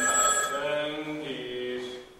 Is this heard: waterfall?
no